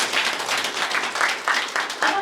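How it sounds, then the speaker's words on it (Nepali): Audience applause at a Brahma Kumaris spiritual gathering in Hetauda, a steady wash of many hands clapping with rhythmic swells throughout, fairly close and loud, with no speech over it. "आफ्नो भाग्यप्रति आफैलाई ताली बजाएर सम्मान गर्नुपर्ने।"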